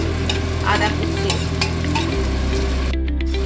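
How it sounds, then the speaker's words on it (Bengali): Vegetables with onion, beans, chopped ginger and curry leaves are stir-fried in a pan. The loud, dense sizzle is broken by stirring scrapes and cuts off abruptly near the end. "সবজিগুলো দেখুন ভাজা হয়ে গেছে।"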